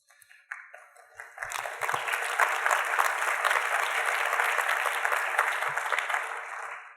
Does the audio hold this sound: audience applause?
yes